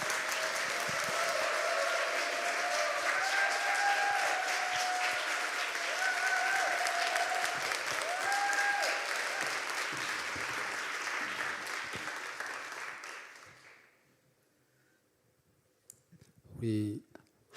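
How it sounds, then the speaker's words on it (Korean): A church congregation breaks into sustained applause to welcome a pastor to the pulpit, full and even for about thirteen seconds before fading out, followed by a brief voice. "여러분 큰 박수로 우리 모시도록 하겠습니다"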